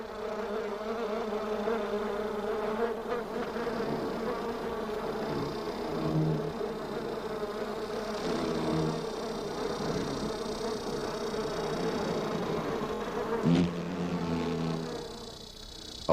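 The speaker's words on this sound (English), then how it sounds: "bees and wasps buzz over the last free moisture" Bees and wasps drone continuously over a shrinking desert water pool among saguaro cactus at the end of the dry season, a dense, steady, close buzzing hum with a few louder passes and no voices.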